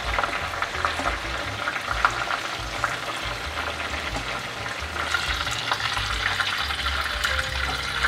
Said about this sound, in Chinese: 差不多炸了1分钟左右